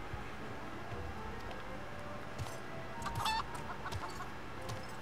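A chicken clucks in Final Fantasy XIV, a few short clucks and squawks over a steady, faint background hum of game ambience.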